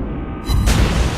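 Shells from the Italian cruiser Raimondo Montecuccoli striking an enemy ship in World of Warships Blitz, a single short, loud booming impact that swells quickly and holds briefly.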